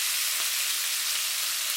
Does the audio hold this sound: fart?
no